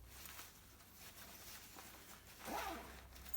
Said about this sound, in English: It also has this zip,